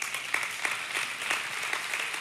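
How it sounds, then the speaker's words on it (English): A church congregation claps in steady, even applause during a sermon on marriage, moderately loud and continuous with no voices over it. "Yeah, you're clapping for her."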